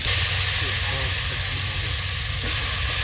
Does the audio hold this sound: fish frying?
yes